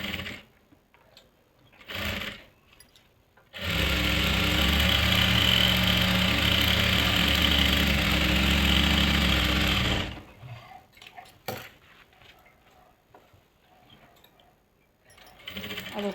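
Sewing machine stitching a salwar seam in a home boutique, a few brief whirring bursts, then a loud continuous run of steady motor hum for about six seconds, followed by quieter handling clicks and rustles.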